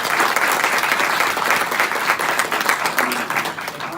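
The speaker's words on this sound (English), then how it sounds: "And a round of applause for Sully." A seated audience at a childhood cancer summit applauds for an honoree, a dense, steady wash of many hands clapping close by for the full four seconds with no break.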